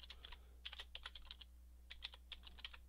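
Fingers typing on a computer keyboard, a quiet, close run of soft key clicks in two short bursts with a pause between, over a low steady hum.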